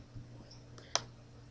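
A single faint, crisp computer mouse click sounds against a quiet room hum during software work in SPSS.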